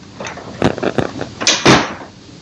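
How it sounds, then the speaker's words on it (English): Front cover of an HP Envy Photo 7975 printer opened by hand, a few short plastic clicks and thumps followed by two louder scraping clunks as the panel swings open, close and clear. "Open the front cover and"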